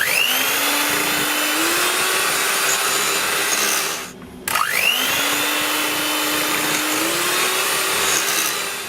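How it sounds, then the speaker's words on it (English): An electric hand mixer whirs steadily, beating eggs into chocolate brownie batter for homemade Twix brownies. The close, loud motor drone cuts off briefly partway through, then spins back up and runs on. "have a new hand mixer"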